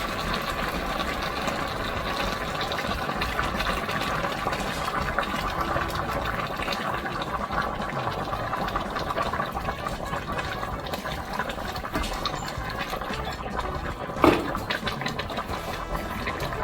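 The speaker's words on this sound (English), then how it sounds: "So I'm going to come here with a little bit of water." Steady rushing water runs continuously into a cooking pot, a full hiss like liquid pouring from a tap, with one brief knock near the end.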